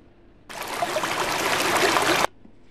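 Water is poured into a plate in a home kitchen, a close rushing splash that starts abruptly, holds steady for nearly two seconds and then cuts off sharply, against quiet room tone.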